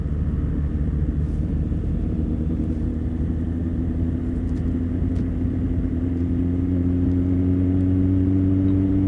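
A 1997 Suzuki Bandit 1200 motorcycle is ridden on an autumn road, its engine a deep, steady rumble heard up close that rises slightly in pitch toward the end, with wind noise and no talking.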